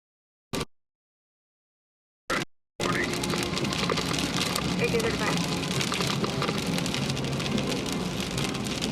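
After a couple of brief bursts and silence, steady rain patters loudly and continuously on a surface up close, during a storm in Overland Park.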